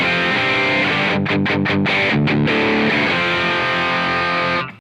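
An electric guitar runs through a VariDiode overdrive pedal in AmpliTube 5, producing a loud, sustained, distorted tone with a quick run of choppy palm-muted strums before ringing chords, ending with an abrupt cutoff.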